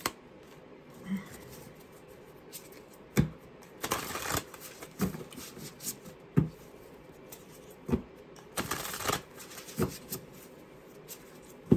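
A deck of cards being split and riffled, with a series of crisp, papery flutters and soft slaps at irregular intervals under a quiet room hiss, close by and with no talk.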